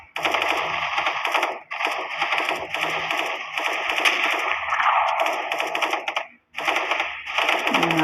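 AWP sniper rifle fire in a first-person shooter video game, heard as loud, dense bursts of gunfire and clatter filling most of the clip with two brief breaks, no talking.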